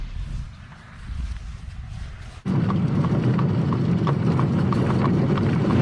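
Horse hooves clip-clop steadily on a hard road, close and fairly loud, in an even walking rhythm that swells after a brief lull, with no voices heard.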